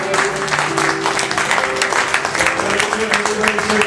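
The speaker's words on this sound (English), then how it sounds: "Let's give him a hand clap of praise." A congregation claps together in sustained, dense applause with voices mixed in, loud and continuous throughout.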